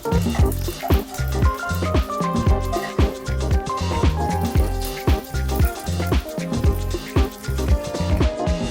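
Onion and chillies frying in oil in a pan, a loud continuous crackling sizzle with dense popping throughout, close and steady with no talking.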